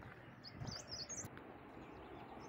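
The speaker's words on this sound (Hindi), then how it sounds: "परिंदों की कुछ आवाज़ें हैं, चिड़ियों की और कुछ दूसरे जानवरों की आवाज़ें" Faint, high bird chirps come and go over a steady low outdoor rumble, distant and sparse, on a forest trail in the Margalla Hills.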